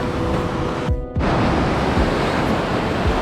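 Ocean surf at a Byron Bay beach makes a continuous close wash of breaking waves with a broad, hissing roar, briefly dipping before resuming. No one speaks.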